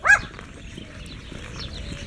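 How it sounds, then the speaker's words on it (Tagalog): A dog at an amusement park gives a single short, sharp bark at the start, then only faint background murmur remains. "Ito, aso! Aso! Aso!"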